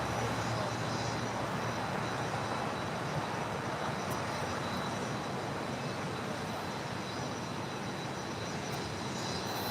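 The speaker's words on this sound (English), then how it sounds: "And the A380 Super now rolling down 25 left." A Korean Air A380 Super rolls down runway 25 left at LAX on its takeoff run, a steady, loud broadband jet roar holding constant throughout with no voices over it.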